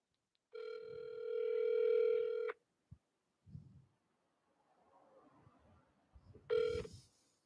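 A telephone call being returned: a clear, steady tone sounds for about two seconds, followed by a few soft clicks and faint line noise, then another tone starts abruptly near the end.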